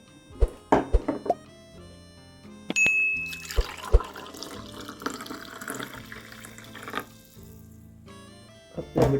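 Passion fruit juice is poured into a cup as a short run of splashing, trickling liquid, set between scattered clinks and handling knocks nearby.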